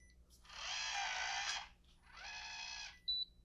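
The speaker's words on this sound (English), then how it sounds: "So we will press the lock key, get our confirmation beep" A Schlage WiFi door lock sounds two electronic buzzing tones after the lock key is pressed, then a short high beep, all close and fairly quiet against a faint hum.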